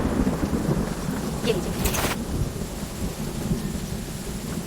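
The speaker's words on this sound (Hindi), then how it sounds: "अरे रुकिए, बारिश हो रही है, मैं छाता लेकर आती हूँ।" Steady rain falls with a dense hiss throughout, and a brief rumble of thunder rolls in the middle; someone speaks a few words early on.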